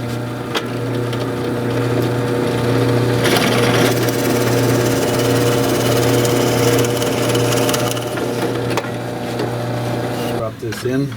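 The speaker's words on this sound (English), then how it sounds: "I'm going to drill a hole centered about 10 millimeters above the bottom" Power drill boring a centered hole in a wooden part for a small table loom, a loud steady motor whine that runs continuously for about ten seconds before tapering off.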